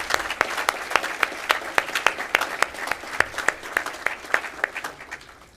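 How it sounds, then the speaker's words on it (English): Audience at the 91st Montana FFA Convention state degree session breaks into steady applause, a dense run of sharp claps from a sizable crowd with no voices over it. "Please give these individuals a round of applause for all the hard work they put in this process."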